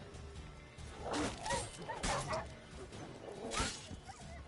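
A dog in The Witcher 3 barks in several short bursts, moderately loud and close, over game ambience with crashing effects mixed in.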